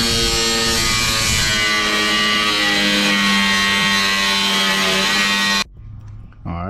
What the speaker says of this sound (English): now I have my grinder. I'm about to get started on actually cutting this thing.